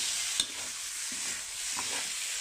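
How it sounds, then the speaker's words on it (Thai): Pork with ginger and shallots stir-fried in a hot pan, a steady broadband sizzle running throughout with occasional soft scrapes and stirring knocks, close and moderately quiet, no voices. "ผัดหอมเยยไปสักนิดหน่อยนะ"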